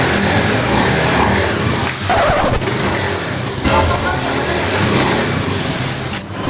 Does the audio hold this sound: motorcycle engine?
yes